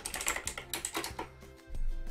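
Rapid clattering keystrokes on a computer keyboard, a close burst of typing that slows to a few taps before a louder final press.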